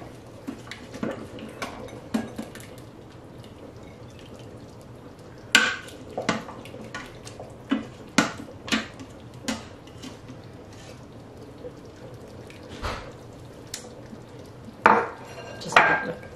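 Stew ladled from an Instant Pot Duo with Air Fryer lid into dishes, with scattered clinks and knocks of a serving utensil against the pot and bowls over a low kitchen hum, fairly close, no talking.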